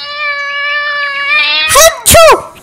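An animated cartoon cat gives a long drawn-out meow, then two sharp, loud yowls in quick succession, close and clear.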